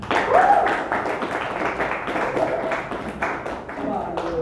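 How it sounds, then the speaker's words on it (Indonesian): Classroom pupils clapping for student discussion groups, a loose, uneven patter of hand claps with a brief voice near the start and some background chatter. "Kita boleh berikan tepuk tangan untuk 2 kelompok tadi?"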